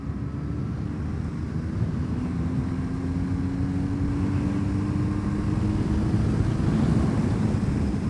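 A 36-year-old motorcycle pulls steadily under acceleration in a high gear, a continuous engine drone with slowly rising pitch under strong wind rush, heard from the rider's position without talk.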